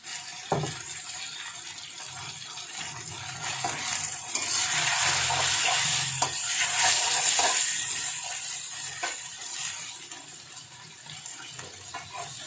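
Freshly pounded garlic and ginger paste fries in a pot while being stirred, giving a broad, close sizzle that swells and fades, with scraping strokes and a few sharp knocks of the spoon, and no talk.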